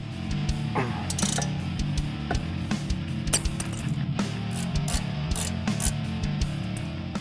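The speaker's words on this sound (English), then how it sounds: "You'll need to remove brake caliper bolts using an 18mm socket and a 1/2-inch ratchet." A 1/2-inch ratchet with an 18mm socket works on the brake caliper bolts of a BMW E90 328i-335i, producing close, irregular metallic clicks and clinks, some sharper than others, over a low steady hum.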